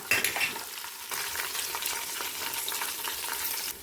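Green chillies and crushed garlic frying with cumin and mustard seeds in hot oil, a dense close sizzle with light stirring throughout, briefly louder at the start, with no voices.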